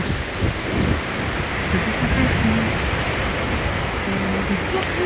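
Sea waves breaking on a sandy beach at Duna Verde, Italy, forming a steady, near wash of surf with faint voices now and then.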